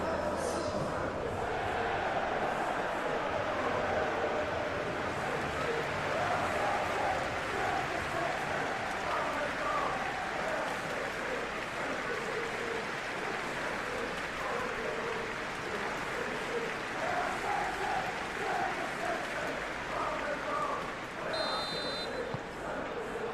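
Stadium crowd noise from the PES 21 football video game, a Premier League match between Manchester City and West Ham United, forms a steady, dense roar with applause throughout, and voices talk faintly over it.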